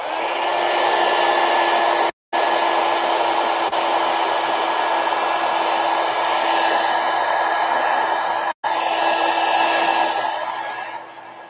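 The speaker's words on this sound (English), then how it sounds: "And so heat gun." A heat gun blows a loud, continuous whir to dry Distress Oxide spray, running nearly the whole time with two brief cut-offs before trailing down at the end.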